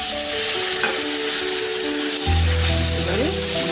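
A spice paste sizzling in a pan for a vegetarian pointed gourd and soybean curry, a loud, steady frying hiss close by over a sustained humming tone that shifts pitch partway through.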